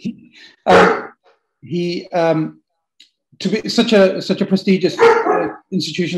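A dog barks several times in the background of an indoor talk, short sharp barks and yips breaking up a man's steady speech, which carries on over and between them.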